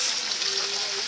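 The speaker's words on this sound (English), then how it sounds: "So here we are waiting for them to be like fried." Food fries in a small amount of cooking oil, giving a steady, soft sizzle and hiss that stays even for the whole moment, with no voices over it.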